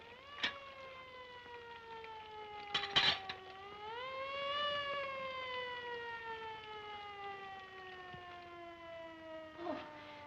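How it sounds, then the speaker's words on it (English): A 1930s siren wails, rising and falling slowly in pitch, fairly loud and steady, with a couple of brief knocks partway through; no voices. "That siren. I hate it."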